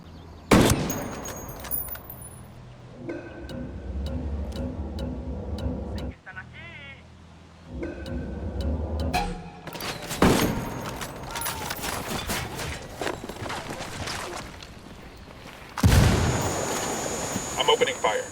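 Gunfire in Ghost Recon Wildlands, with heavy bursts of shots and booming reports in several loud stretches over game sound and music, and voices talking at times.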